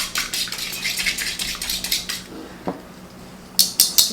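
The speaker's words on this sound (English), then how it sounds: "Get rid of my little whisk." A small whisk clatters against metal cutlery and dishes in a home kitchen sink, with a run of quick, close, bright clinks and scrapes, a brief pause, then a few sharp knocks at the end.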